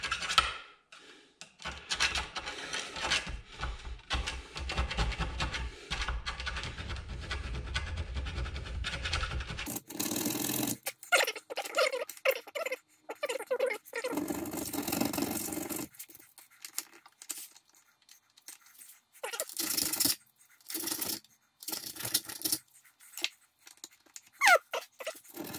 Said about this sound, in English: I'm just filing this out a bit.